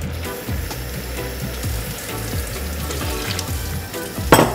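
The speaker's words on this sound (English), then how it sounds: "we're going to add a little piece more into the pot with a little bit more water" Liquid bubbles and sizzles in a pot of gravy for poutine as bouillon and water are added, a steady simmering hiss with soft splashes and a brief clatter near the end.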